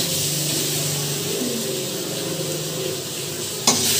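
Meat frying in a pan gives a steady, loud sizzling hiss that runs unbroken, with faint background voices and a single sharp utensil clack near the end.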